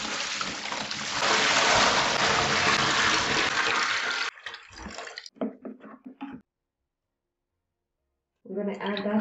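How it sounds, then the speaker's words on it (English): Hot water gushes loudly and steadily into a basin for hand-washing white towels, then stops, and a few brief splashes and talking follow before a quiet gap. "I'm going to use hot water because that helps to take off the stains and also make it fluffy."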